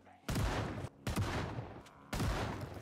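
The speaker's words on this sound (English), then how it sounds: "let's go see what we can achieve with this shotgun" Shotgun in the zombie survival game Project Zomboid: three loud, close blasts spaced about a second apart, each with a booming onset and a trailing decay.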